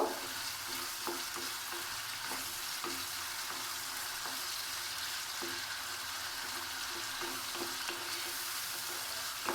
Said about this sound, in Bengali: আমি মোরলা মাছটা ভেজেই নিচ্ছি।